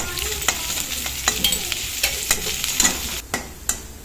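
Small shallots brown in hot oil for a prawn and drumstick curry, sizzling steadily close by as a spoon stirs and knocks against the pan in an irregular rhythm, with no talking.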